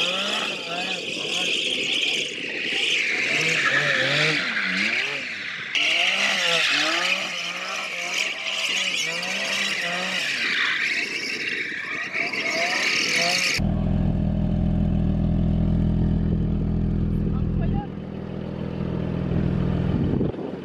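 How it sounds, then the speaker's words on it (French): A Porsche GT4 drifts on a sandy desert track in Dubai, engine revving and wailing with rising and falling pitch for about thirteen seconds, then gives way to a loud low rumble from wind or a close microphone. "j'ai drifté dans une Porsche GT4 si je me trompe pas"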